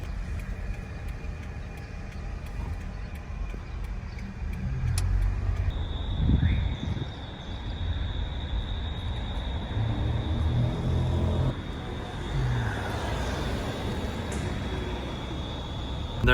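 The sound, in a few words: car driving through city streets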